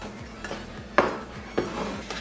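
Protein cookie dough being mixed by hand in a bowl, with scraping and clinking of a utensil against the bowl and a couple of sharper knocks, close and moderately loud, with no speech.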